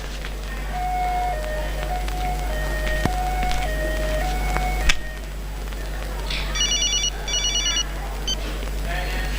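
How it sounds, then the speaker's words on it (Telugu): A phone rings with a tinkling melodic ringtone, then beeps in quick repeated pulses over a steady low hum. "బాబాజీ ఫోన్."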